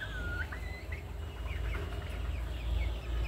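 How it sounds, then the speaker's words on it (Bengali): Chickens on a rooftop cluck softly while feeding, with intermittent faint calls over a low rumble of background noise. "মুরগিগুলো খাবার খাচ্ছে"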